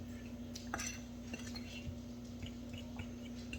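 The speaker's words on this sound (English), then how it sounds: "Just want to get it all stirred in really good and even." Spoon stirring beer batter thickened with cornstarch in a bowl, faint scattered clinks and scrapes against the bowl over a low steady background hum, no talk.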